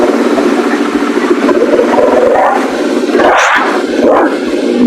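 A Royal Enfield Bullet motorcycle engine runs after starting, giving a loud, steady rumble with a brief swell in revving partway through. No voices are heard.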